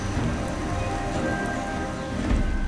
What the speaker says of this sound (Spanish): las gotas de lluvia son como un bombardeo